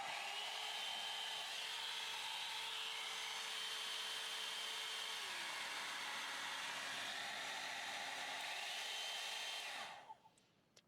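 A handheld Amika hair blow brush runs with a steady, loud whirring hum and airy rush, its motor pitch stepping down partway through, before it is switched off near the end.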